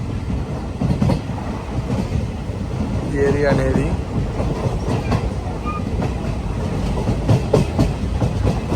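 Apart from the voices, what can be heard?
passenger train running and slowing near station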